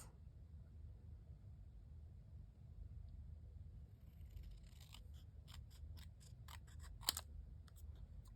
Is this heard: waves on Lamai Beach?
no